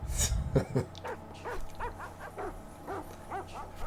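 Repeated yips and barks from several dogs in an Isle of Dogs video game kennel, a rhythmic string of short calls running steadily over a low background hum.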